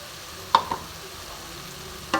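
Panch phoron chicken sizzles softly in a pan while it is sautéed, with a couple of sharp spatula scrapes and clinks over the quiet frying.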